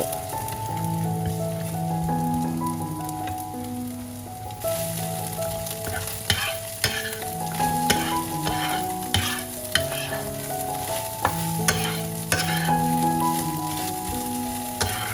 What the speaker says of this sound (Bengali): এবার ডিমটাকেও ভালো করে ভর্জি বানিয়ে নেব